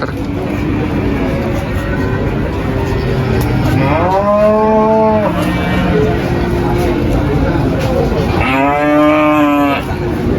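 Limousin cattle, deep maroon-red, moo twice in drawn-out, harmonic calls around mid-clip and near the end, close by over steady outdoor background noise at a livestock sale.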